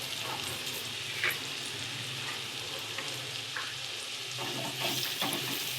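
Grated jaggery goes into a pan of amla pickle and is stirred, giving a steady soft sizzle with a few faint spatula scrapes and clicks, fairly quiet and with no one talking.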